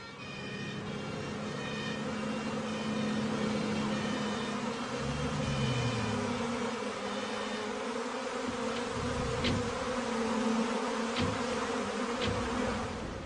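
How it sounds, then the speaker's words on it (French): A swarm of disoriented honeybees, with firefighters on hand to help, buzzes steadily and densely close by throughout, a continuous droning hum with a few brief sharper tones near the end. "ce sont bien les abeilles, complètement désorientées"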